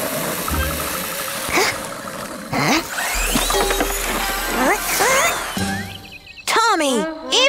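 A toy car with a tweaked engine revs in a low, steady rumble for a few seconds, mixed with cartoon voices and other busy effects.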